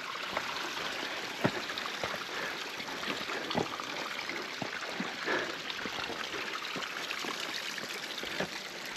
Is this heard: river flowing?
yes